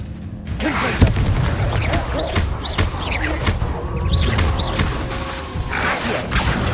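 Confringo blast spell explosions in the Hogwarts Legacy video game, loud booming blasts and crashes within dense, continuous combat noise.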